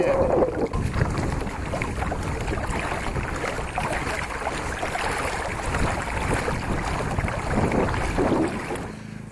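Old Town Predator PDL pedal kayak moving through a windy cove, continuous water sloshing and hull splashing mixed with gusty wind buffeting the microphone, close and steady, no speech.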